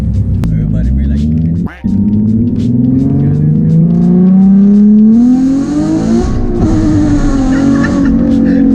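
A loud modified car exhaust revs hard through rising and falling engine sweeps, raw and close, with people talking and reacting over it.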